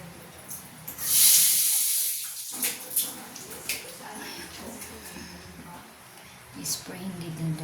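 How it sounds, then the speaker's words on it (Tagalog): A can of Duroblas cleaning spray gives one sharp, hissing burst, then falls away to quieter scattered sounds, with voices speaking throughout. "I-spray dito yung Duroblas para malinis yung area."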